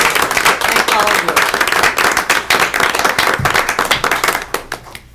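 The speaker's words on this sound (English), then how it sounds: "I think we should give those candidates an applause" Audience at a board candidate interview meeting applauds the candidates, loud close-up clapping with distinct individual hand claps in a lively rhythm, tapering slightly at the end; a voice may be mixed in.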